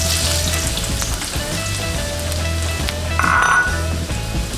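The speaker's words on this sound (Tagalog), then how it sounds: "Igisang mabuti ang luya." Ginger sautés in hot oil in a wok, hissing and sizzling continuously, with occasional clinks of a utensil against the pan and one brief louder sizzle burst.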